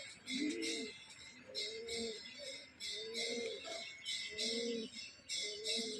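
Pigeons in a home loft, including a Dobaz female and a Phulshira male of the Madraj breed, give soft repeated throaty coos in a steady rhythm, with thin high chirping above. The sound is faint, with no talking.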